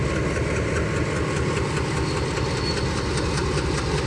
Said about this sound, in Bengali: নতুন রাস্তা দিয়ে রেল যাচ্ছে।